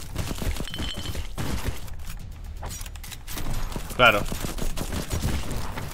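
Rapid bursts of gunfire in the video game Black Skylands rattle in quick succession, with short pauses between volleys and a brief spoken word over the shooting.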